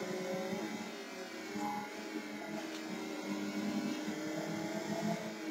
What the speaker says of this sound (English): This bike sounds pretty much like the Multistrada.